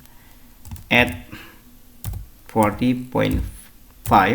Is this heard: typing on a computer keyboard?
yes